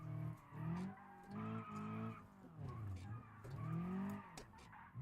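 A car in the BeamNG driving game skids after a hard e-brake pull, giving a wavering, sustained tire squeal that rises and falls in pitch over several seconds.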